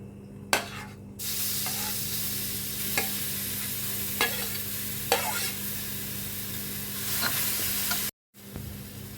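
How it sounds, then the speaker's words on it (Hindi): Grated raw mango is stirred in a warm pan over a very low flame, giving a steady soft sizzle broken by a few sharp scrapes and taps of the spoon, close by and without any voices. "बस हल्का सा गर्म होते ही हमने जो हमने अम्बिया कद्दूकस कर रखी है वो डाल देंगे इसमें"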